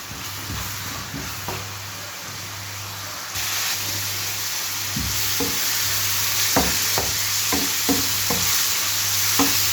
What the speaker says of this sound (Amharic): ሽንኩርቱ ትንሽ ጠበስ ብሎልኛል